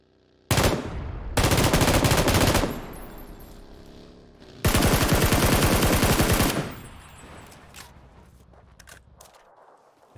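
An M249 machine gun fires in PUBG in long, loud, close bursts of rapid rounds: one short burst, a longer sustained one, a pause, then another extended burst, with the crack echoing away and faint handling noises between bursts.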